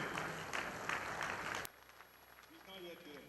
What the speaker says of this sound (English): Please keep on clapping till he gets to his podium.